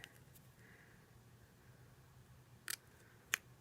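Scissors trimming paper pumpkin craft pieces: two short, sharp snips close by in a quiet room, with a faint hum behind them and no talking.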